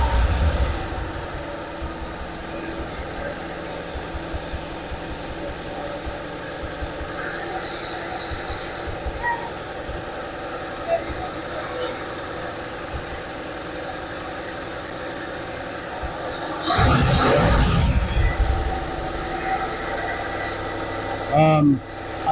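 A junk Camaro's engine idles steadily after its first start, a continuous low rumble with a brief louder rev burst midway, while people talk nearby.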